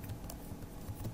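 Keys tapped on a computer keyboard in short, quiet, irregular bursts, faint and close, with no voices over them.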